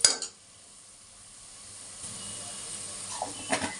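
Prawns, onions and drumsticks cooking covered in oil in a pan: a faint, steady hiss of steaming and gentle sizzle, with a couple of small clinks at the start and near the end.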